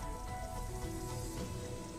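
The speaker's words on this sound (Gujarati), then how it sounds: "જૂનાગઢના કેશોદમાં ધોધમાર વરસાદી માહોલ જામ્યો હતો" Heavy downpour in Keshod, Junagadh, a steady, dense hiss of rain drumming on surfaces, continuous and close, with no voices.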